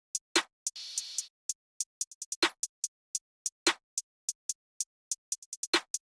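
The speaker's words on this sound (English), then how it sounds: "Next, we've got the stock standard drill snare pattern." A stock drill snare pattern using a 14K snare sample: sharp, punchy snare hits land sparsely over a busy ticking hi-hat line with an open hat and fast rolls, loud and close.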